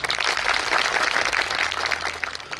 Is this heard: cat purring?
no